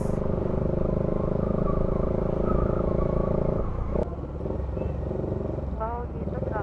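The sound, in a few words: road traffic heard while riding a Bajaj Dominar 400 motorcycle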